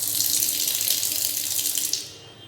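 Water runs steadily from a kitchen sink tap in a flat, a loud hissing gush that fades as the flow is shut off near the end.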